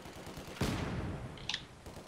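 A rapid burst of machine gun fire rattles out in the World War II strategy video game Company of Heroes 2, followed by a short sharper volley and a faint metallic ring.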